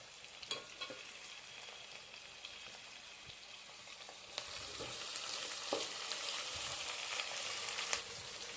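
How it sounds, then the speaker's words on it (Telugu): Bristly bitter gourd (boda kakarakaya) frying with onions in a pan, a close, continuous sizzle and crackle that grows louder midway, with occasional stirring knocks and no voices. "ఈ బోడకాకరకాయలు అయితే మంచిగా ఫ్రై అయ్యాయండి"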